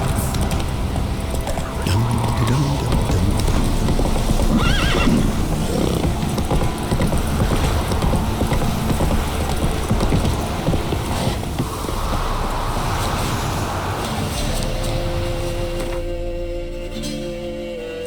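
Horse in the video game Witcher 3, rapid rhythmic hoofbeats at a gallop under gusty wind noise, steady and close for most of the stretch before fading out near the end.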